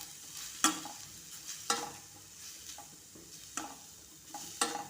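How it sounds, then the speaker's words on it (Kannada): Grated carrot frying in ghee in a pan, a steady soft sizzle under regular stirring, with sharp scraping strokes roughly once a second; no talking. "ಅದೇ ತುಪ್ಪದಲ್ಲಿ ತುರಿದಿಟ್ಕೊಂಡಿರುವಂಥ ಕ್ಯಾರೆಟನ್ನು ಹುರ್ಕೋತಾ ಇದ್ದೀನಿ 2-3 ನಿಮಿಷ."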